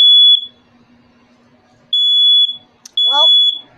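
First Alert smoke detector sounding in a test, piercing high-pitched beeps in loud bursts with a gap between, and a voice speaking briefly near the end.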